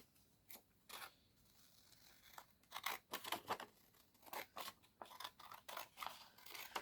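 Scissors snip through paper for a handmade mini journal, a series of close, crisp cuts that start sparse and quicken into a steady rhythm of short crunchy strokes, with no voices.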